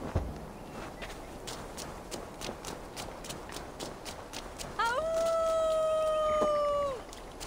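A howl in Assassin's Creed Valhalla rises into a long, steady, loud tone with clear harmonics and holds for about two seconds before cutting off, over a busy game backdrop with rhythmic hoof-like clopping.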